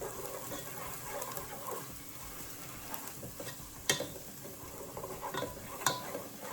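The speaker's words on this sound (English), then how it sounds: "I need to stir all this in." A spoon stirs ham and pinto bean soup in a pot, giving soft, quiet scraping and bubbling with a few sharper clinks against the metal, no speech.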